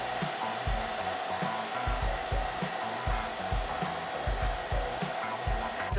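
A JBR VAC 110 chamber vacuum sealer pumping air from a bag of salmon, a steady loud motor drone with a pulsing low thump repeating about twice a second, close and continuous.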